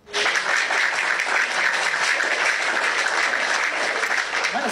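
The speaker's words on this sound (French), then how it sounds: "applaudissons pour elle." A French-speaking television studio audience breaks into loud, steady applause that starts abruptly and holds at full strength to the end, with no speech over it.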